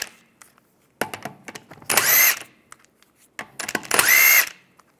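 A power socket wrench spinning off a wheel bolt on a 1998-2010 Volkswagen Beetle during rear brake work, heard as two close, loud whirring bursts separated by clicks and short pauses.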